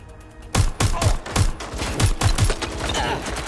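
Loud, punchy gunshots in the Watch Dogs Legion video game, a quick irregular string of about eight shots that follows a quieter opening moment.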